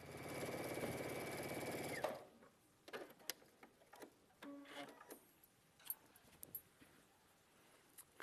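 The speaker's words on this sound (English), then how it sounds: "now I'm going to split them in half, match up my seams, and sew across the bottoms" A sewing machine stitches a 1/4 inch seam across the bottom of a quilted bag. It runs in a steady, close whir for about two seconds, then stops, leaving light clicks and fabric handling.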